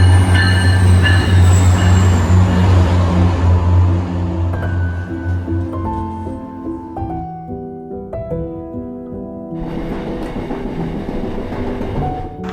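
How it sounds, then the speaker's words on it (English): A commuter rail train in Boston rumbles loudly close by, with wheel squeals and screeching tones sliding over a heavy rolling drone that eases off partway through. "So I'm gonna take the train out, the commuter rail."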